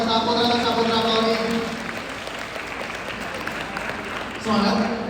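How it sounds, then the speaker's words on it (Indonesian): An audience claps at an event while people keep talking over it, the applause moderate and fairly steady throughout. "Tepuk tangan dulu dong untuk Mori Saputra Mori."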